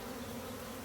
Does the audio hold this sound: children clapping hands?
no